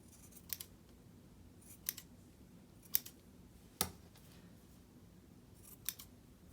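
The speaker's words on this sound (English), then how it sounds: "So just go ahead and cut some of these straggly bits." Quiet, close scissor snips trim straggly yarn bits from a pom for a wreath, about six sharp separate cuts spread at uneven intervals against near silence.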